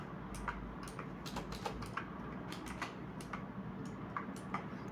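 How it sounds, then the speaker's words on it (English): Password being typed on a computer keyboard: quiet, irregular key clicks in short bursts over a steady low room hum, with no talk. "Now I'm not typing letter A, but shift number 8 and then 9."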